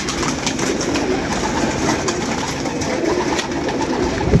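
Pigeons coo softly in a loft amid a constant hiss of background noise, the low murmuring calls continuing through without pause.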